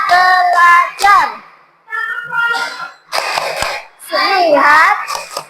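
Children in a classroom chant rhythmically and clap along in short bursts, their voices loud and close with brief gaps and sharp claps breaking through between phrases.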